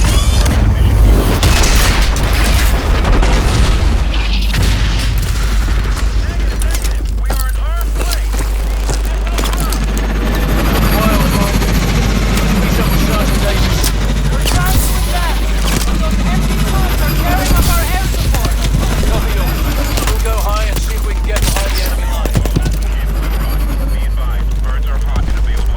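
Aircraft making a rough, hot touchdown with reverse thrust in Call of Duty: Advanced Warfare, a loud continuous rumbling roar with deep low-end boom and rattling noise throughout, no gaps.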